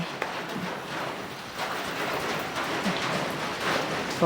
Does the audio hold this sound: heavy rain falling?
yes